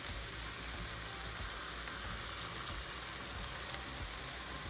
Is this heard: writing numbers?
no